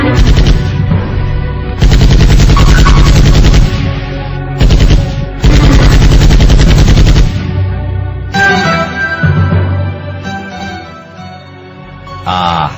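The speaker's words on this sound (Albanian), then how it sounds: "sa bukur lidheshin krismat e pushkes legendare me krismen e pushkes e Skënderit" Rifle gunfire in a film, dense rapid volleys of shots rattling in long loud bursts with short pauses, then a fading, echoing tail.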